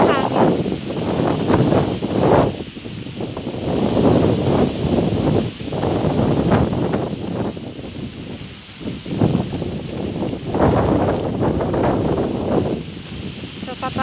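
Strong typhoon wind during a signal no. 4 storm in Silang, Cavite, buffeting the microphone in loud, rumbling gusts that swell and ease continuously for the whole stretch.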